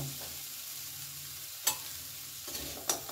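A jaggery, grated coconut and milk mixture being stirred in a pan, a soft, quiet scraping and low sizzle with a couple of brief louder scrapes of the spoon.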